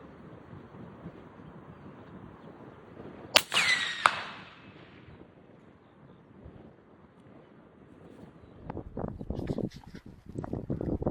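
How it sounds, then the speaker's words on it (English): Two sharp rifle shots fired at a right-hand target while zeroing an upgraded rifle, the cracks coming less than a second apart over steady outdoor wind noise, with shuffling handling sounds later. "I'm going to have 2 shots at the right hand target with these."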